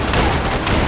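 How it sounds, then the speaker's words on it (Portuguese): A gunshot fired at a locked door in the shooter game Max Payne 3 lands as a loud, dense burst of gunfire filling the moment, close and harsh with no talk over it. "E se eu dar um tiro aqui?"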